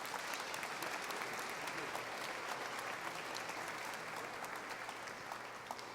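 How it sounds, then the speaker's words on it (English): A rally audience honoring legislators and aides gives steady, dense applause that holds at an even level for the whole stretch, with no voice over it. "Please give them a round of applause."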